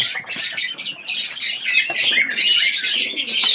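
Pigeons crowd a loft at morning feeding time, a dense, steady chatter of squawks and chirps that runs without pause throughout, close and fairly loud, with no talking.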